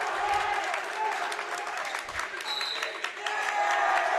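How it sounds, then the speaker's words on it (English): A lively Winnacunnet home crowd cheers and applauds steadily at a high school boys' varsity basketball game in a gym, loud and close, with a busy wash of clapping and shouts throughout. "a very lively Winnacunnet crowd right next to us"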